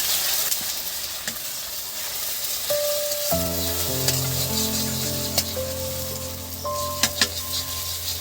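An egg cracked into a hot pan for chowmein sizzles loudly and steadily, a close crackling hiss with a few sharp pops, under a low mechanical hum that starts partway through. No one speaks.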